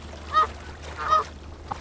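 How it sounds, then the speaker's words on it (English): Tiny ducks in the video game Thirty Flights of Loving, two short honking quacks spaced apart, fairly faint over a quiet low hum. "there's tiny ducks"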